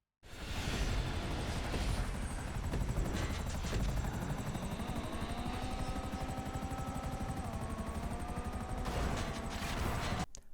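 A helicopter in the video game GTA 5 runs continuously with a loud, rapid rotor chop and a steady whine that shifts pitch midway through, close and alone for about ten seconds.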